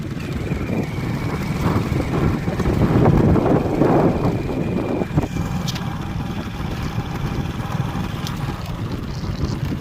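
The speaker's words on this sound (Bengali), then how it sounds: "আমরা বাইকে যাচ্ছি।" Motorbike ride along a rural road past small shops and a temple, with heavy wind buffeting the microphone over a steady engine rumble. The roar swells midway, then settles back into a continuous close drone.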